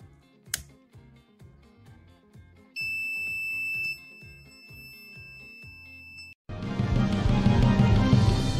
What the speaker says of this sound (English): the temperature increases, so its resistance decreases, because of which the buzzer is activated.